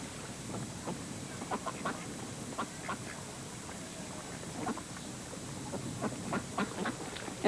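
A mallard duck quacking in short, scattered calls over steady outdoor background noise, with faint wind and water ambience and no talking.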